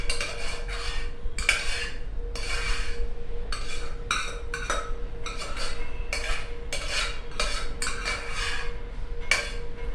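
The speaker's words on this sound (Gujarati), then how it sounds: "અને એકવાર એને આપણે બરાબર મિક્સ કરી દઈએ." A metal spoon stirs and scrapes palak khichdi in a pressure cooker pot, giving repeated sharp clinks and knocks in an uneven rhythm over a steady low hum, close and fairly loud.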